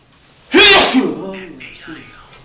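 A single loud, sharp sneeze bursts out near the start, followed by quieter breathy sounds and faint voices afterward.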